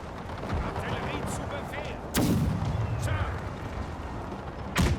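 Artillery guns fire in a Franco-Prussian War strategy game, with sharp booming blasts that cut through a continuous rumble of distant gunfire and battle noise, and a voice talks throughout.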